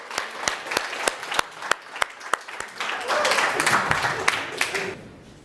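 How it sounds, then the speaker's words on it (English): Audience applause at a MOEvement 2018 talk: a run of sharp, separate claps at first, then swelling into a denser burst of clapping from the crowd before fading out. "Give yourself a round of applause."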